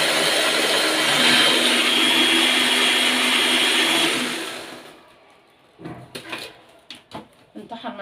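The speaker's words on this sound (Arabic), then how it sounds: "انطحن معايا العيش اهوت." A kitchen blender grinds stale bread into crumbs with a loud, steady whirring roar that stops about two-thirds through, followed by light clattering and handling noises.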